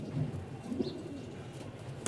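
Domestic pigeons cooing in a loft, soft low throaty coos repeating over a steady background hum, with no voices.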